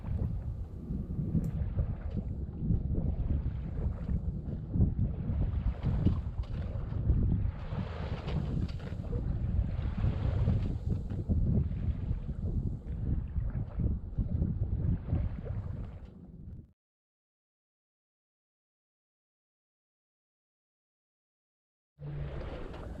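A Contessa 26 sailboat glides at sea at 3.5 to 4 knots in easing wind over flattened water. Steady close wind rush and water wash run for about sixteen seconds, then cut to silence before resuming briefly.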